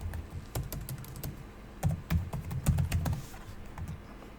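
Typing on a computer keyboard while entering a server IP address in a remote desktop client on Ubuntu Linux, rapid irregular clicks close to the mic, busiest in the middle of the stretch, with no talking.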